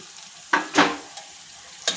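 Omelette pieces are stirred into egg fried rice in a hot pan, giving a couple of brief, close scraping strokes over a soft sizzle, with no voices.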